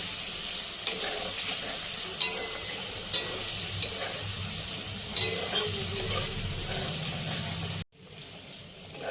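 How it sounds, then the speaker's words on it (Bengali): Pointed gourd tossed into spiced oil in a pan for doi potol, with a steady sizzle and a few sharp stirring clinks before the sound cuts off near the end. "মশলা থেকে তেল ছেড়ে গেছে এবারে পটলটা দিয়ে দেবো দিয়ে একবার নেড়ে ছেড়ে দেবো"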